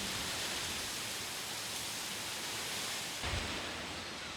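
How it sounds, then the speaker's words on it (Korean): Waves wash over the wharf on Jukdo island, near Ulleungdo, in rough weather. The result is a dense, unbroken roar of surf with a brief low thump late on. "부두에 넘치는 파도를 보니 오늘도 배가 못 들어오는 모양이다"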